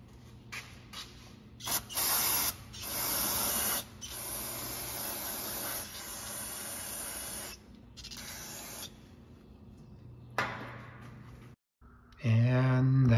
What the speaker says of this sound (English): I'm gonna spray that off with some carb cleaner